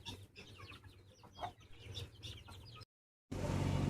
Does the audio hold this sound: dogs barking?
no